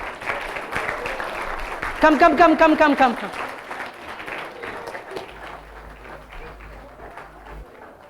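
An audience applauds a winning startup team at a code-a-thon, clapping under ongoing talk, with a brief louder burst of voices partway through and a single spoken word.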